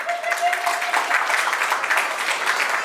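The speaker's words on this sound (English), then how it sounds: "A big round of applause" A burst of audience applause at a preschool annual day, many hands clapping steadily throughout, with a voice briefly heard at the start.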